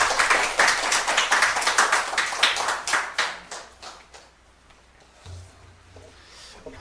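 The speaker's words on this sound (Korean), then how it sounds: "소개할 때 박수로 환영해 주시기 바랍니다." A church congregation claps enthusiastically for a few seconds to welcome a speaker, then the applause fades out into quiet.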